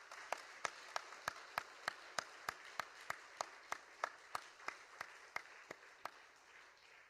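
A church congregation claps for its teachers in a faint, evenly spaced rhythm of sharp single claps, about three per second, keeping a steady beat throughout.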